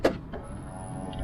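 Electric wing mirrors on a car with a 1.6 diesel engine folding in: a brief motor whir with a click at the start, then a steady low hum inside the car, fairly quiet and close.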